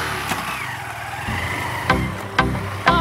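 Car starting and driving off, a rough idling engine rumble that picks up, with several sharp clunks or revs near the end, no talking.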